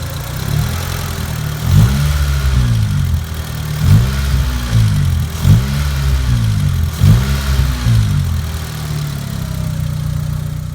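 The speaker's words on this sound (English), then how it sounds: "I'm gonna start the car up. So this is what it sounds like when with the stock red box." A 2004 Honda Civic EX coupe engine with its stock airbox, idling steadily with repeated short throttle blips that rise and fall, close and loud with no talk.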